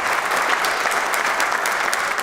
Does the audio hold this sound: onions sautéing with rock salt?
no